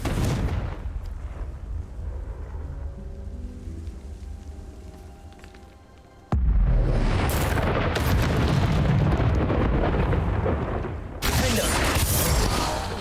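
Confringo spell explosions in a Harry Potter video game: a sudden loud blast midway, then sustained rumbling booms and crackle, with a second burst near the end after a quieter stretch of game ambience.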